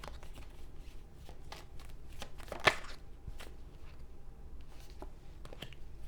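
Tarot cards being shuffled by hand in a quiet room: soft, faint riffling and papery flicks in an irregular rhythm, with one sharper snap partway through and no talking.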